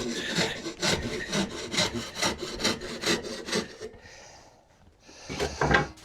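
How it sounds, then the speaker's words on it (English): A handsaw cuts off wooden pegs sticking out the back of a dog gate joint, steady rasping back-and-forth strokes up close, then a pause and a few shorter rough strokes as the pieces come free. "sticking out the back, and then just saw them off"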